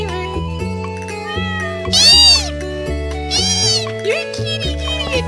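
Cats meow loudly in the Stardew Valley video game, two or three drawn-out meows over steady chiptune-style game music, with a brief spoken word from a player.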